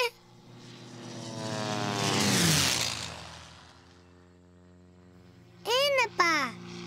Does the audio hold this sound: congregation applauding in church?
no